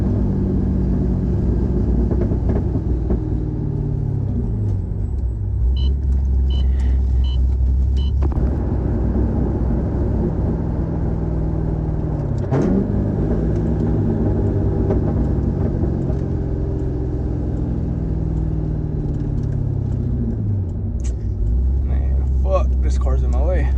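Corvette C6 V8 engine rumbling steadily at close range from inside the car, with a rising pitch as it is driven hard and blipped through downshifts; someone talks over the engine throughout.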